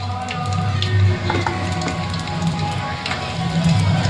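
Oil heating and frying in a pan while tempering for shahi pulao, a steady close sizzle with soft crackle running throughout, a voice speaking faintly over it.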